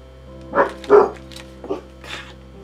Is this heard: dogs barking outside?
yes